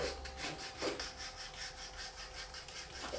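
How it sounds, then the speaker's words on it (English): Edges of a leather strop burnished with a tool, giving a soft, steady back-and-forth rubbing and friction sound with faint squeaky strokes, close but quiet. "And what we're doing is we're just burnishing the edges."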